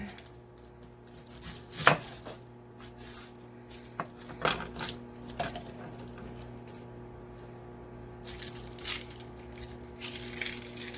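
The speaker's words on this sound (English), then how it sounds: "I'm going to go ahead and get this onion chopped." A knife chops an onion on a cutting board in a home kitchen, a few separate, sharp knocks spaced irregularly, with a quiet steady hum underneath.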